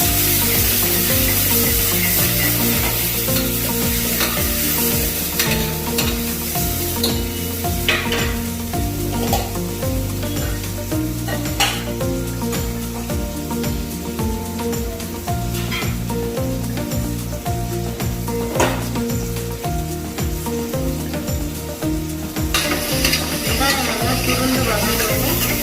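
Chopped tomatoes and onions sauté in a pan for a chickpea gravy, giving a steady sizzle with stirring scrapes that runs under continuous background music.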